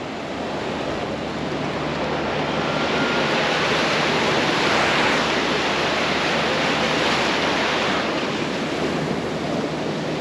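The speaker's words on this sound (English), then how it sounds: "Let's get up a bit close and I'll show you the wave pool." Broad, continuous roar of churning water from a wave pool in Darwin, steady and loud throughout with no voices.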